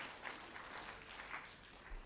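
Faint, distant applause from a school concert audience for a Year 5 student band, a brief continuous patter of clapping with slight swells.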